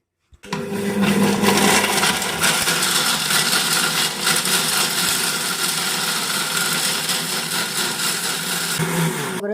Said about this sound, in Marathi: ते खोबरं काढून घेते पहिले मिक्सरमध्ये आणि हा गरम मसाला आणि गरम मसाला टाकून घेतला